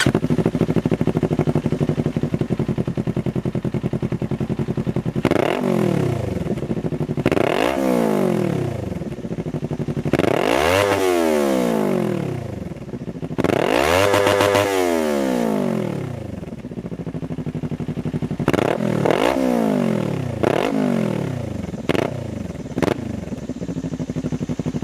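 A Kawasaki Ninja 400 fitted with an MMW BRAP exhaust revs hard in a series of about six sharp throttle blips, each climbing steeply and falling back to a rumbling idle, loud and close with no talk.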